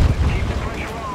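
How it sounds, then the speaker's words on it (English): A bomb explodes against a tank in the War Thunder arcade game, a loud low boom with a rumbling tail that fades over about a second. "Bomb got him."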